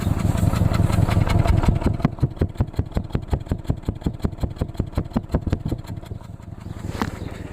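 A 2009 Subaru Forester engine idles roughly with a cylinder misfire, a loud close chugging with an uneven pulsing rhythm that slows and stumbles toward the end; no one speaks.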